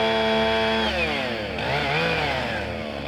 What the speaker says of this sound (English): buzzed up some firewood with a chainsaw